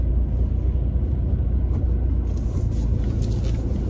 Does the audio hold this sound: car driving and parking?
yes